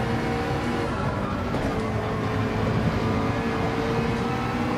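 Race car engine in Gran Turismo 7 during a Gr.3 daily online race, a steady loud drone with continuous revving and gear-driven whine throughout, no talking over it.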